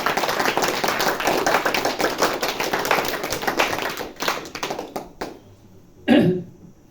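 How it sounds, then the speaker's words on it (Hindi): An audience claps for a doctor during a motivational talk at a Navratri camp: dense, steady clapping for about four seconds, then a few scattered claps and a short louder burst near the end. "तो डॉक्टर के लिए तालियां तो बजाओ।"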